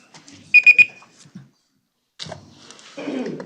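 A timer at a county board meeting gives three quick, close, bright beeps, followed by a soft thud and then rustling and shuffling in the room.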